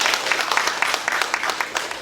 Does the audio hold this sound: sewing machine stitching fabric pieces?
no